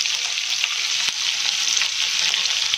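Ginger, chilli, garlic and asafoetida fry in a pan, giving a steady close sizzle with one sharp crackle partway through and no voices.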